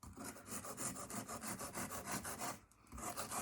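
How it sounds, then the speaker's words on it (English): A sharp knife trims excess pastry from the rim of a lemon meringue pie shell, a quiet rhythmic rasping of short repeated cuts close by with a brief pause near the end. "So the edge, just let it rest on the edge, and then very carefully trim off all the way around."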